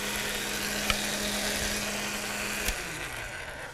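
An electric pasta machine rolls a sheet of dough, giving a loud, steady motorized whine with a constant hum, broken by two brief clicks before the motor winds down near the end.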